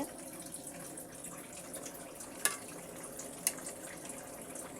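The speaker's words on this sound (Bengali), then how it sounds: "দেখুন টক বক করে ফুটছে" Tripe stew with vegetables simmers in a pot, giving a faint, steady, watery bubbling with two brief sharp pops partway through.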